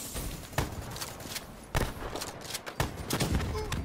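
Video game gunfire: a handful of sharp, sparse shots cracking out at irregular intervals over a busy, noisy combat background, with no clear speech.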